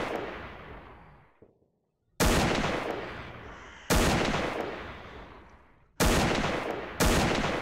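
Four loud sniper rifle shots in a video game, each a sharp crack trailing into a long echoing decay, spaced irregularly a second or two apart after a fading earlier blast.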